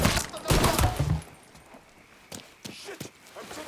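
Gunfire in Mafia 3, a loud volley of rapid shots at first, then fading into scattered single cracks and footstep-like thuds after a lull, with no talk over it.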